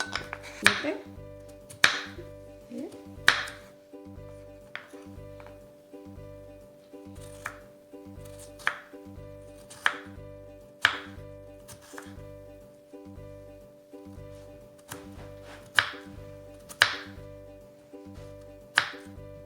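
A knife chops onion on a board in a slow, regular series of sharp, close taps, each one standing out clearly over a faint steady hum.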